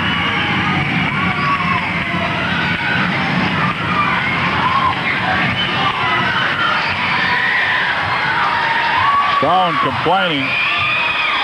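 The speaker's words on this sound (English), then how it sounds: "We got a good crowd, but it's not a full house. But they're making noise like it was." A good-sized but not sold-out crowd at a 1980s Portland wrestling match roars and yells continuously, loud and dense throughout, under steady play-by-play commentary.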